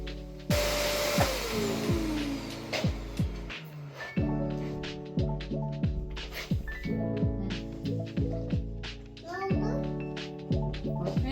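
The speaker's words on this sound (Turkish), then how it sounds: "Halımın tozunu alıyorum." A vacuum cleaner working over a rug at home, a steady whining drone that runs throughout under frequent overlapping speech from an adult and a child.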